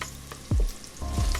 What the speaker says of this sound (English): now of course we're still on sear. We just want to sweat these out a little bit.